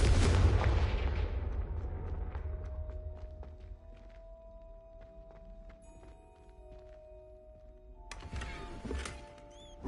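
Fiery blasting-spell explosion in the Hogwarts Legacy video game: a loud, broad boom at the start that rolls off into a rumbling decay, followed by quieter game tones and a sharp burst near the end.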